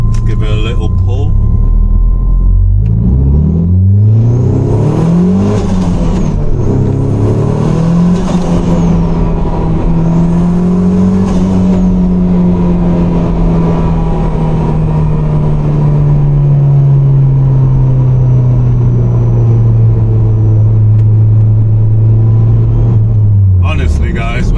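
A Toyota MR2 Turbo fitted with water methanol injection accelerates hard on boost, its engine note loud and close as it climbs steadily through a long pull with brief shifts, staying strong to the end.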